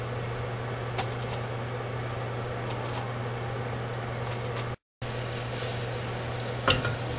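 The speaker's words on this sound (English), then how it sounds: "I'm shaking them so that they roll and they'll cook on all sides." Meatballs frying in a covered pan, shaken so they roll, give a steady low sizzle and hum with a brief cutout and a faint clatter near the end.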